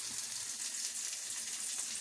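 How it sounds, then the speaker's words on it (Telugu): Spices sizzle and crackle in hot oil, a steady close hiss with small popping textures, no talking. "అలసందల చారుకి పోపు పెట్టుకుంటున్నాను"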